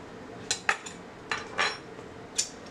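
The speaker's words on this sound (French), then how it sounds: "On va prendre une petite coupelle." A small ceramic bowl being handled in a kitchen while making Caesar salad, producing a few light clinks and taps spaced out over a quiet room.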